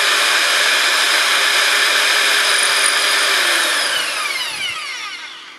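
A power drill bores a hole through a metal bar while a curtain is fitted in a Kombi camper van, making a loud, steady, close whine that holds for several seconds and then winds down at the end.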